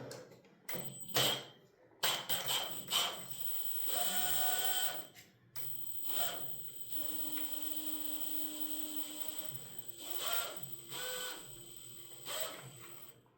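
A power tool whirs in several short bursts separated by brief pauses and clicks, close by and fairly loud, removing bolts from a 2021 Honda CB650R motorcycle.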